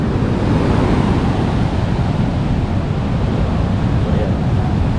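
Strong ocean waves wash steadily onto a beach, a loud, continuous roar of surf with wind buffeting the microphone throughout and no clear breaks.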